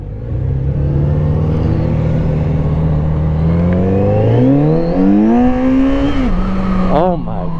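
Kawasaki Z900 RS naked middleweight motorcycle engine revving while riding, a loud continuous drone rising steadily in pitch through the gears, with a brief rev blip near the end.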